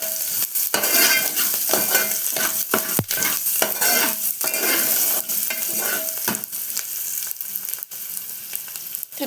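Turmeric being stirred into amaranth dal in a pot, with a spoon scraping and clinking against the metal over a steady sizzle, close and continuous.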